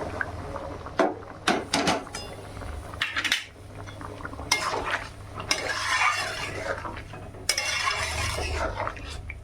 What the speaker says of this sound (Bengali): এই যে আমার কষানো হয়ে গেছে এবার এই গরম জলটা দিয়ে দেবো এর মধ্যে